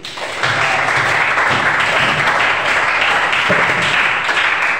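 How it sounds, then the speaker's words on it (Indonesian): A classroom audience applauds steadily for several seconds, a dense, even wash of many hands clapping at close range. "tepuk tangan untuk Dewi."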